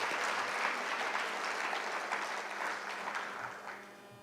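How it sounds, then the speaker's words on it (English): A crowd at a graduation ceremony applauds steadily for several seconds, a dense patter of clapping that slowly fades toward the end. "Let's clap for that"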